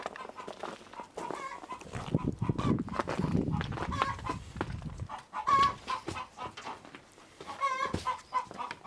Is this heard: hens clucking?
yes